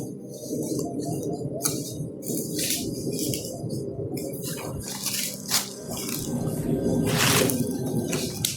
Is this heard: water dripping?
yes